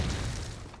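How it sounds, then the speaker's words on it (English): Muffled explosions rumble through a multiplayer video game match, a dense low boom with a sharp burst and crackle, steady and loud across the brief moment with no voices. "I hear explosions, but I don't think they're mine"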